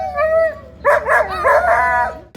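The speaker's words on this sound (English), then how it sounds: "Team Awoo's dog, that was the most dramatic reader there." A team's dog howls at a 24 Hours of Lemons endurance car race event at Mid-Ohio, giving a loud, close, drawn-out wavering howl in several rising and falling phrases after a short opening note.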